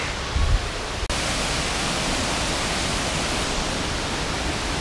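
Waterfall at Dingalan, a dense, loud, continuous rushing roar of falling water, steady throughout with a brief thump near the start.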